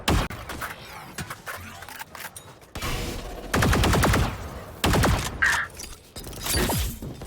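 Gunfire and ability effects crackle through a Valorant tournament match, bursts of shots, metallic clatter and impacts in uneven clusters, loud and close, with no talk.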